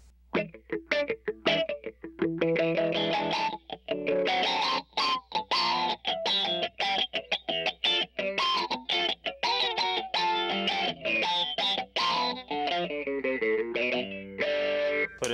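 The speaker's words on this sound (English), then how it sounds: "I'll give you an example of the Bassball with guitar." Electric guitar played through an Electro-Harmonix Bassballs twin dynamic envelope filter pedal, producing choppy, rhythmic notes with a vocal, sweeping quack, loud and up close with brief gaps between phrases.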